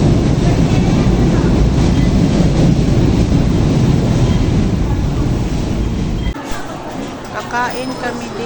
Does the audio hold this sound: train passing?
yes